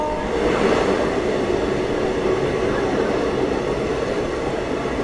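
Steady, loud rumble and rattle of a passenger train in motion from Bangalore toward Jog Falls, a continuous low roar from inside or right beside the carriages.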